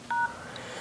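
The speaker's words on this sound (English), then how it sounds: "you open your phone application and you dial the following command" A short DTMF keypad tone from an LG G2 phone as a code is dialed, a single clean dual-pitch beep lasting a fraction of a second, close and clear over a faint background.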